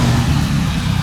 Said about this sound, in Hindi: बाइक मैं ऑलरेडी स्टार्ट करके दिखा चुका हूँ, फिर से एक बार मैं शुरू करके आपको सुना देता हूँ आवाज़